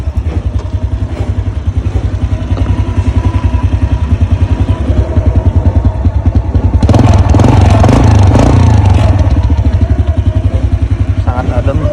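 A 2002 Honda Astrea Legenda 2 motorcycle with original exhaust idles steadily close by, a continuous low rhythmic engine thrum that swells louder around the middle and stays strong to the end.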